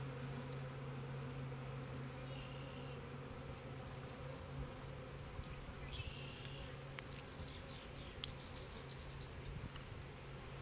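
Russian honey bees buzz continuously around a hive box during installation into a new home, a dense steady drone at low level with a few brief higher tones over it and no talk.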